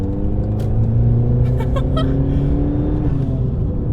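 A straight-piped 1.2 TSI car accelerates flat out, its engine tone climbing steadily and then easing back, loud and close inside the cabin with a raspy, droning exhaust and no voices.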